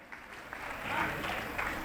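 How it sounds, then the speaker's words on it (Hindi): Applause for Manoj ji at the 21st Jain Scholars Award 2023 ceremony in Delhi, clapping that builds and grows louder midway and keeps going, with some voices underneath. "एक बार जोरदार तालियों से मनोज जी का अभिनंदन करें"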